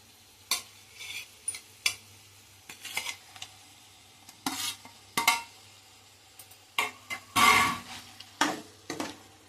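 Gongura chicken curry with tomato pieces gets stirred in a pot, a spoon scraping and clattering in repeated short strokes over a faint sizzle, close by with no talking.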